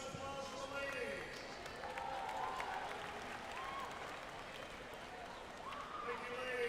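Steady, fairly distant applause from a crowd at a high school state swimming championship finals, sustained throughout under an echoing indoor pool hall, with a voice speaking over it.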